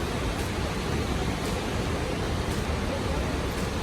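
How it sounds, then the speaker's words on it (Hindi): Rushing water at Great Falls Park roars as a steady, dense wash of noise, continuous and unbroken from start to finish, moderately loud with no voices. "ये समंदर की अपनी आवाज़।"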